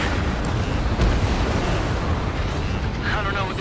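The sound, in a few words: target exploding in Ace Combat 7 video game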